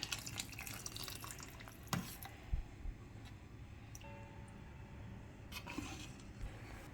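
Cornflour water poured into a vegetable soup gives quiet drips and splashes of liquid, a few brief trickles and plops over a faint background hum.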